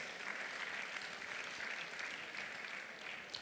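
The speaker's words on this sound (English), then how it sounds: "A round of applause, please." An audience at a political conference plenary session breaks into steady, dense applause, many hands clapping continuously at moderate distance for a few seconds without voices.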